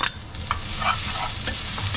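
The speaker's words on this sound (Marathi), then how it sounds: "आता आपण याच्यामध्ये खोबरं टाकणार आहे." Grated coconut roasting with garlic in a pan for a Malvani masala, giving a steady soft sizzle with a few faint scraping stir strokes over about two seconds, close by, with no talk.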